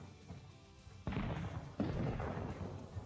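In a video game, two heavy gunshot-like thuds strike the player about a second apart, each followed by a lingering rumble over quiet background.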